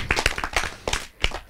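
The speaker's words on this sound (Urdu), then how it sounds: "تالی ہو جائیں کھنا پل کے لیے" A short burst of hand clapping, several sharp claps in an uneven rhythm from a few people nearby.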